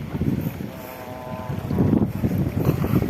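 Wind gusts over open rice paddies in a rural village, a steady rushing blow buffeting the microphone, with a brief faint tonal hum partway through.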